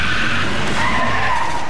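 A loud, continuous tire skid from a car braking hard in a crash test, a steady screeching hiss up close with no voices.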